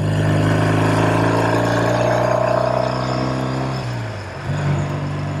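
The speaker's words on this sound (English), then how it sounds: "I love riding these old motorcycles" A 1969 Triumph Daytona 500 vintage motorcycle engine runs with a steady, droning hum that dips in pitch near the end before picking back up, close and continuous with no voices.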